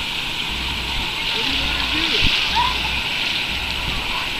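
Pool water splashes and sloshes as someone wades into an outdoor pool at Second Beach, with a steady watery wash and a few louder splashes near the middle, fairly close.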